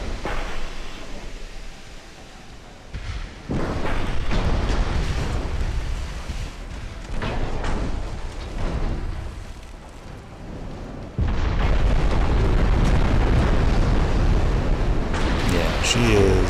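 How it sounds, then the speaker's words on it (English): Heavy naval shell salvos in the warship game Ultimate Admiral: Dreadnoughts land as deep, rumbling booms and broad explosive bursts that swell and fade in waves, ending in a sustained loud roar. "Here comes the next salvo of heavy rounds"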